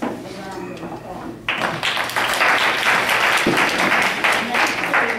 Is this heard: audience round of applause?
yes